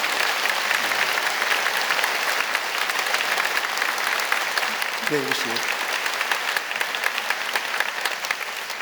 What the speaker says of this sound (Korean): 여러분 크게 박수로 환영하시지요.